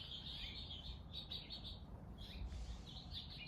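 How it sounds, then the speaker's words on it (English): A dense chorus of many small birds chirps and tweets continuously at a fairly steady level, their high calls overlapping. "there's a whole like cacophony of little Tweety birds"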